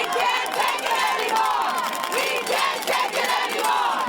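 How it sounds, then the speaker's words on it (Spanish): Thousands of striking nurses from two New York hospital networks shout together in a loud, sustained roar of massed voices, with rising and falling chants and cheers carrying on without pause. "Este es el grito de miles de enfermeras de 2 redes de hospitales en Nueva York que permanecieron en huelga por 3 días"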